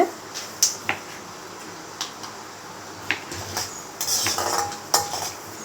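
Onion and chana dal are stirred in a pan for masala dosa filling, with repeated metallic clanks and scrapes of a spoon against the pan over a low background sizzle, with no talking.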